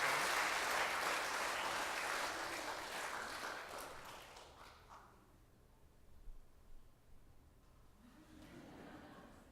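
A church congregation claps together in dense, loud applause that gradually fades to near silence, followed by faint scattered sounds.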